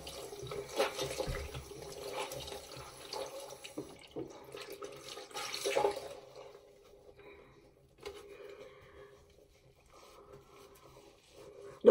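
A sink tap runs while someone rinses their face with a washcloth after removing makeup, giving a moderate splashing flow that rises and fades in bursts, with pauses in between.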